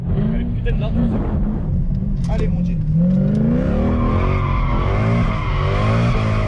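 A car drifting with its tires skidding and squealing, heard loud and continuous alongside engine roar, while a person talks over the noise.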